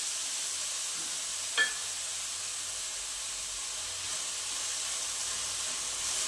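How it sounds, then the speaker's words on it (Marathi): Onion with fennel seeds fries in a pan until reddish, a soft, even sizzle and hiss running steadily with one small utensil click early on. "कांदा छान असा लालसर होईपर्यंत आपल्याला परतून घ्यायचा आहे"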